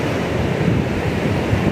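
Ocean surf breaking on a beach on a summer day, a steady close wash of waves blended with wind buffeting the microphone, continuous and fairly loud with no pauses.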